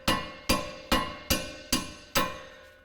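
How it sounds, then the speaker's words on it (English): A hammer strikes a wheel stud on a Subaru Forester hub, six sharp metallic blows at an even half-second rhythm, each ringing briefly before the next, close and loud with no talk. "Now we're going to take our hammer and just swing it"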